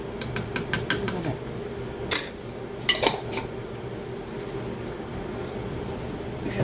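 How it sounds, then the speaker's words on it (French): A utensil clinks and scrapes against a bowl while garlic and other ingredients are stirred into a paste for rice, a quick run of metallic taps followed by a few louder knocks, then quieter mixing. "Je remue le tout pour obtenir une très bonne pâte."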